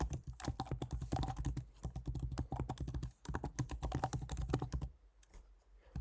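Someone types an email address on a computer keyboard in a fast, dense run of close keystrokes with one brief pause. The typing thins out to a few taps at the end.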